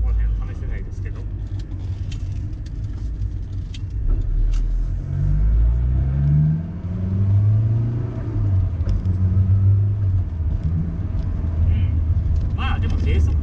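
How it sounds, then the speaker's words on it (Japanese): Honda S2000 AP1 fitted with Ohlins coilovers driven on city streets: a low engine drone that swells as revs climb, then settles, heard from inside the cabin with someone talking over it. "高回転までこうふっとこう回っていく感じがありますね"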